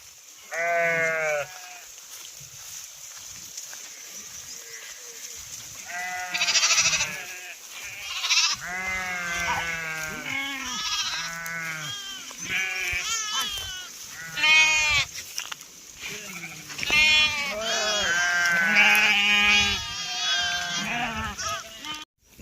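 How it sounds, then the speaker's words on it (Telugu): A flock of sheep bleating repeatedly, several overlapping wavering calls close by, loud and nearly continuous over outdoor background noise. "మన గొర్రెలు అయితే మంచిగా మెత్తాయి"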